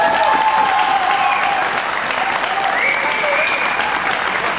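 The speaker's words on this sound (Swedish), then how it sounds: "En jättestor applåd till!" An audience applauds after a performance by a performance project from Reykjavik, Iceland, a dense and steady wash of many clapping hands that carries on loudly throughout.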